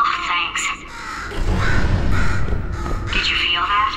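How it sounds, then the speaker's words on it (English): A bird caws loudly and close in Portal 2, with a few harsh calls under and between spoken game dialogue. "Could you, ow, murder this bird for me?"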